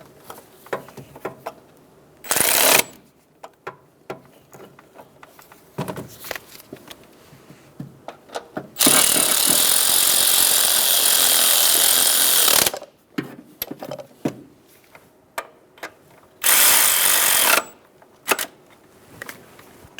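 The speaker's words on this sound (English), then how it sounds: "Snug the bolts down. Do this in a cross pattern so it sits nice and square." Tools snugging and tightening the throttle body bolts on a 2007-2011 Toyota Camry 2.4L four-cylinder, heard as scattered clicks and clunks with several loud bursts of a power tool, the longest lasting about four seconds.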